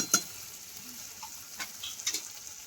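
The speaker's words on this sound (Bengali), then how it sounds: "এবার একটু মিশিয়ে নেবো ঘিটা" Ghee being stirred into cooked banana flower with prawns in a pan, a soft low sizzle with a few brief scraping strokes of a spoon spaced through the moment.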